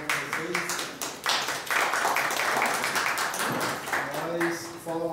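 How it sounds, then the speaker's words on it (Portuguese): An audience at an urban reform forum gathering breaks into applause, a dense, steady wash of clapping that swells after the first second and carries to the end, with voices speaking before and after it. "Uma salva de palmas para vocês."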